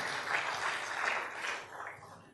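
Congregation applause at an Indonesian church sermon, a faint, steady, distant patter of many hands clapping that tapers off toward the end.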